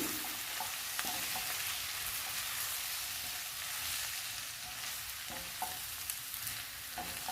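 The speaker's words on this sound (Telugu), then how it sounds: "కలుపుకుందాము కర్రీ" Carrot and capsicum curry with ginger, garlic and lentil powder is stirred in a hot pan, a steady close sizzle running throughout with occasional soft scrapes and taps of the spoon.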